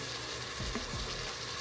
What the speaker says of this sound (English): I'm gonna let this go ahead and heat up, saute for about maybe 3 more minutes